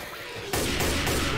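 Video game gunfire breaks out as a sudden loud burst of rapid shots after a quieter start, then continues densely through the rest of the short stretch.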